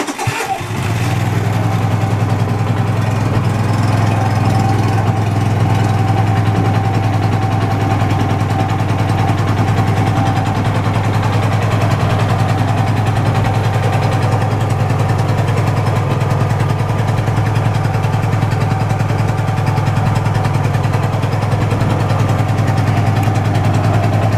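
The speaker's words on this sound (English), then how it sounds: "She does idle better if you leave the choke on for a little bit longer, maybe longer than you think it should be" A small engine idles steadily and loudly after a choke start with the fuel turned on, giving a continuous low rumble throughout after a brief startup at the beginning, with no voices.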